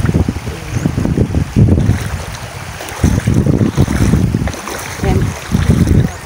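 A boat's motor drones steadily as the craft crosses open water, with wind buffeting the microphone and waves splashing in uneven surges, close and loud, with no talking.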